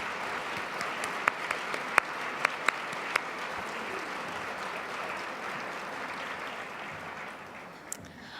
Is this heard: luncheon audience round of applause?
yes